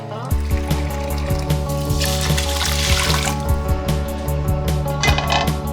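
Tap water runs steadily into a measuring cup for cooking rice, a loud continuous close-up pour and splash with a rising fill tone across the clip, no talking.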